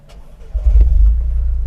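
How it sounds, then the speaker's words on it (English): A Toyota GR Corolla's three-cylinder engine cranks and fires up at close range, a quick starter whir giving way to a loud, deep idle that settles into a steady throbbing rumble. "that's the engine started"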